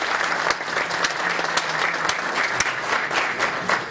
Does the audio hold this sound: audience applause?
yes